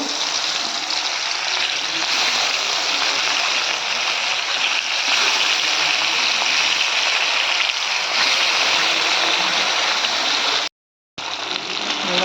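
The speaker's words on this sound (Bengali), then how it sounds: "মাছের পিসগুলো ভেজে নেব।" Fish pieces frying in oil in a wok make a loud, steady hiss and crackle that runs almost unbroken, with one brief dropout near the end.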